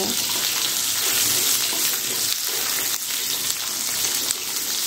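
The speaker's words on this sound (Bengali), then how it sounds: "এখন এই আলুটাও আমি তেলের সঙ্গে ভালো করে ভেজে নেব" A potato fries in hot oil alongside eggplant, producing a dense, constant sizzle that holds nearly level for the whole stretch, close up with no voices.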